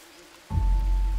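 Rain in the jungle survival game Green Hell starts abruptly after a brief quiet moment, then holds as a steady, full downpour with a low rumbling undertone.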